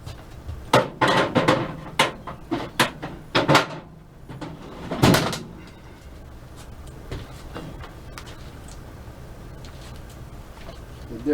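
A normal hammer taps on metal to punch a small dimple as a mark before drilling, parts for a motorized bike build; several sharp, close strikes in an irregular run during the first half, then quiet shop noise.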